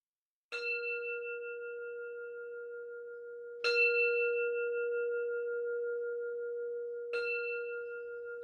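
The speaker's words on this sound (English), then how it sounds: "allowing the sound of the bell to draw the attention outward" A meditation bell at a Sunday sangha gathering is struck three times, spaced a few seconds apart. Each clear, ringing tone sustains and overlaps the next in a quiet room.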